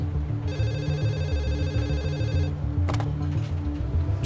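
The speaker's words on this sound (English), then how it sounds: "Karen receives an unexpected phone call" A telephone rings in bursts, a clear electronic trill repeating over a low steady background hum, with no talking.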